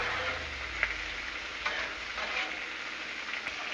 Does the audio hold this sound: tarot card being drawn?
no